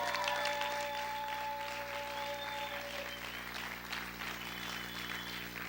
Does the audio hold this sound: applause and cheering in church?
yes